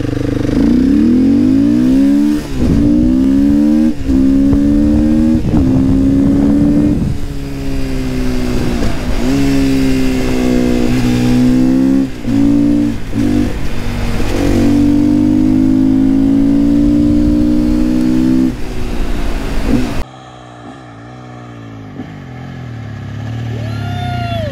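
A Sherco 500cc supermotard motorcycle engine revs loudly and close, rising and falling through repeated throttle blips and gear changes over about twenty seconds, then drops to a quieter, more distant running note near the end.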